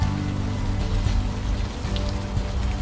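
Steady rain falling in Brooklyn in the adventure game Unavowed, a dense close patter of drops on surfaces, continuous and moderately loud with no voices.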